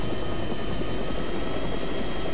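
Medium utility helicopter in ArmA3 running the AFM Rotorlib flight model, a constant loud rotor and turbine roar with dense low chopping, steady throughout and with no talk.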